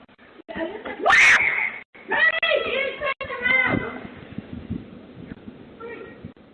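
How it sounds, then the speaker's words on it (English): A woman's sharp, high scream bursts out briefly near the start, followed by excited voices talking. "In the video, you can hear her screaming"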